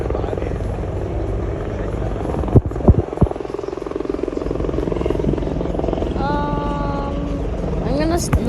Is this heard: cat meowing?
no